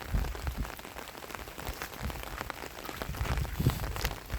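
Rain falls steadily around a house and patters on surfaces in a dense, even hiss. Louder drops and thuds break through now and then, and no one speaks.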